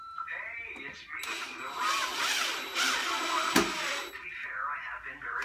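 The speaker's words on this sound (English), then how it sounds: "And just screw the fixture in." A power screwdriver drives a screw through a fixture into timber while a tenon is cut for a timber frame, giving a close whirring burst of a few seconds that rises and falls, then a brief sharp knock.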